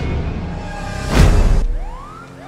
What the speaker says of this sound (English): we're gonna go ahead and turn off our sirens here